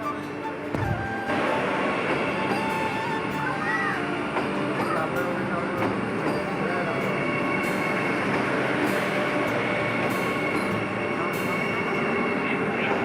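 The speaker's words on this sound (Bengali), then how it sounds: "ফাইনালি বর্ধমান তিলপাড় প্যাসেঞ্জার চলে এসেছে" A Bardhaman passenger local train pulls into Bolpur station, a steady loud rumble of wheels and carriages filling the whole stretch, with station noise and a faint voice underneath.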